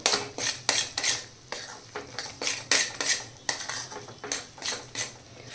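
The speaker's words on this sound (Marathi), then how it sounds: "असं मिक्स करून घ्यायचं आपण, की ती पूर्ण भुर्जी आपली सुट्टी होते, कढईला पण ती लागत नाही" A metal utensil scrapes and clanks rhythmically against a kadai while egg bhurji is mixed, with sharp, close, evenly repeated strokes and no talking.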